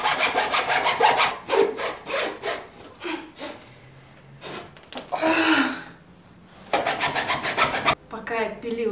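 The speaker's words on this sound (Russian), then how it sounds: "Пока я пилила эту трубу, у меня села батарейка, но я это сделала." A cardboard tube being sawn for a handmade nutcracker figure: quick, rasping back-and-forth strokes in steady bursts, close and fairly loud, with a brief pause and a few breathy sounds mid-way.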